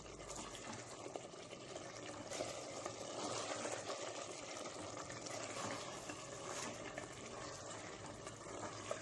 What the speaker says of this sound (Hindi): घी और तेल अच्छे से साइड्स में आने तक हम इसे ऐसे ही भूनते रहेंगे